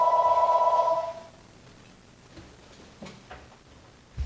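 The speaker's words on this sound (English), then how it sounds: "Phone ringing." A phone ringing indoors, a steady electronic ring tone for about a second that then stops, followed by faint ticks and small knocks.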